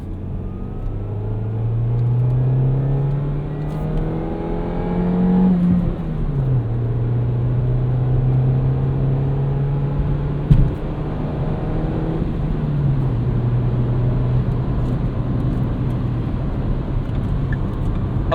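A 2012 Ford Fiesta SE hatchback with a manual gearbox pulls away in second gear, its engine droning steadily up in pitch, then dropping with each upshift before climbing again. One sharp bump breaks the run of continuous cabin rumble.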